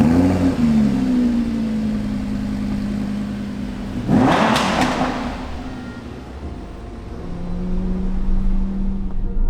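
A Lamborghini Huracan LP610-4 engine accelerating hard, a loud rising howl that climbs through gears, a sharp burst of noise midway, then drops and swells again, with no voices.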